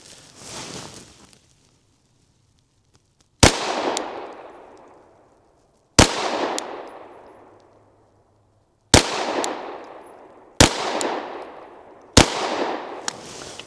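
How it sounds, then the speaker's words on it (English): A Glock 49 pistol firing 9mm rounds at an outdoor range, six sharp, loud single shots spaced a few seconds apart, each followed by a long ringing decay, with a softer noise at the start. "Let's shoot another group up here, see how that does."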